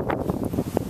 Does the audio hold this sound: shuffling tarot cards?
no